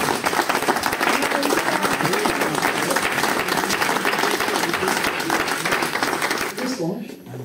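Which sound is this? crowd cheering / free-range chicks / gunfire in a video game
crowd cheering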